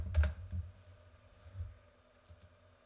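Keystrokes on a computer keyboard while entering a search in documentation, a few soft clicks early then sparse lighter taps, quiet and close with no talking.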